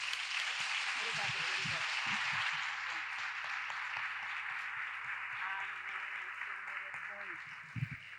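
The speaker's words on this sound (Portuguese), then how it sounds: "Vamos aplaudir ao Senhor." A church congregation applauds in steady, sustained clapping that fills the room, with a voice speaking over it near the end.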